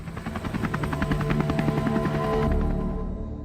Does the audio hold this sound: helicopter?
yes